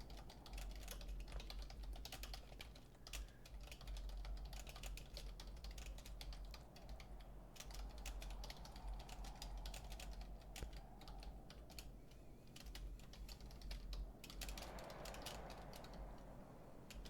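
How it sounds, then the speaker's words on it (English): Rapid, continuous clatter of a computer keyboard being typed on steadily for the whole stretch, close and fairly quiet, with brief pauses between bursts of keystrokes and no talking. "I do actually like typing stuff out"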